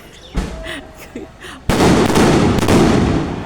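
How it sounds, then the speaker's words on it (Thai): At a temple cremation rite in Ban Nong Khaen, a string of firecrackers erupts into loud, continuous close-range crackling, with one extra burst near the end; a few faint voices and scattered pops come before it. "ว่าเพิ่นจุดประทัด"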